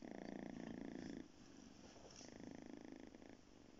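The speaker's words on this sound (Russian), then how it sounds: "Как мурчит, а?" A cat purrs up close while lying on a bed, a soft, steady rumbling drone that rises and falls with each breath, quiet and unbroken by any talk.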